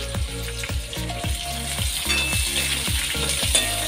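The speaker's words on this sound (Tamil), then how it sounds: "இப்போ இதெல்லாம் சேர்த்து கொஞ்சமாக லைட்டாக நான் வதக்கி விட்டுக்க போகிறேன்." Onions sautéing lightly in a pan with curry leaves, a steady sizzle broken by regular scraping strokes of a spatula against the metal, close and moderately loud with no talking.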